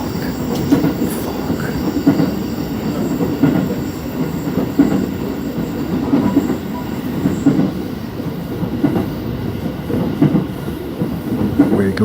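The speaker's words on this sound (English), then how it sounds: "This is the KOI train for Tokyo." A Keio commuter train bound for Tokyo rumbles loudly and steadily along the rails, with repeated wheel clatter and faint squealing throughout and no voices.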